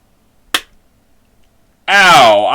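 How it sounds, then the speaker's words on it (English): A single sharp hand clap, a bit off and poorly struck, sounds near and alone in an otherwise quiet moment, followed by a loud voice starting up. "Ow! I fucked up that clap."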